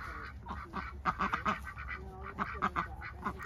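Ducks or geese honk and quack in short irregular bursts at a pony's first ride under saddle, moderately near and fairly quiet over low background noise, with no one speaking.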